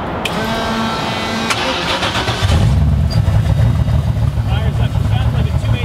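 1965 Mustang Fastback with a twin-turbo engine cranks briefly and catches, then settles into a loud, lumpy idle close by after the start.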